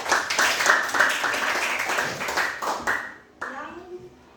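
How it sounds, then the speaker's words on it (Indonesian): Schoolchildren in a classroom clapping for a fellow student, a few seconds of close, busy hand claps that stop abruptly, followed by voices speaking. "tepuk tangan untuk Nia"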